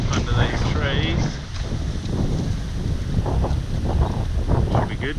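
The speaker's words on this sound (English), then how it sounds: "Nice and windy today, I'm safe under these trees." Strong wind roars and buffets the microphone steadily outdoors under trees, a constant rumbling rush with no pauses.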